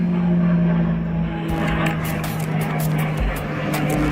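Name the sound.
two military warplanes flying overhead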